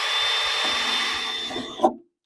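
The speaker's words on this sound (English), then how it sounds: "what I'm just going to do is drill a hole through this" A power drill bores a hole through a white plastic rain gutter downspout extension set against a 3x2 timber, a steady close whine for about two seconds ending in a short louder bite as it breaks through, then silence.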